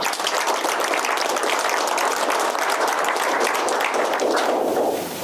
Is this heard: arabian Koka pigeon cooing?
no